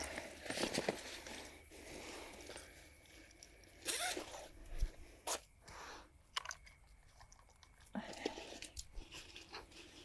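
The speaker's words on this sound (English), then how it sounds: "Okay, zip the sides up and then I'm gonna weigh it" A zipper pulled along the sides of a fish bag or cooler at a lakeside fishing spot, with several short rasping zips between rustling and handling noises, fairly close.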